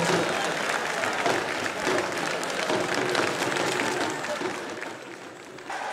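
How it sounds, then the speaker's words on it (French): A crowd in a hall cheers and applauds as Abdoulaye Bio Tchané arrives, a continuous roar of clapping and voices that swells and stays loud before easing slightly near the end. "Sous vos acclamations."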